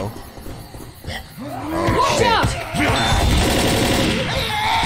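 Gunfire in the Left 4 Dead zombie shooter game, loud and close, with rapid bursts over growls and game noise while players talk over the action.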